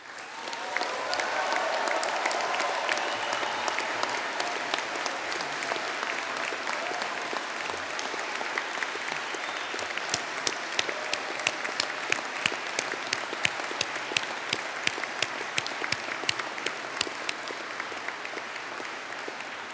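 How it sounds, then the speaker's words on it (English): Graduation ceremony audience for an engineering and informatics faculty breaks into sustained, dense applause with cheering, a steady roar of many hands holding for about twenty seconds with sharper individual claps and whoops rising in the second half. "I want the most serious and focused round of applause and cheer"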